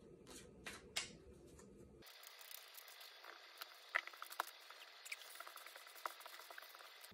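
Tarot cards are drawn and handled at close range, producing faint, quiet paper flicks and soft slides with scattered small taps over several seconds. No voice is heard.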